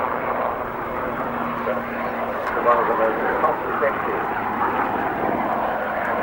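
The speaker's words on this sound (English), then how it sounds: "They're demonstrating the agility of this very popular helicopter." A popular Aérospatiale helicopter, IAR-built, flies an agility display at the 1992 Farnborough Air Show, its steady engine and rotor roar filling the air under a commentator's continuous narration.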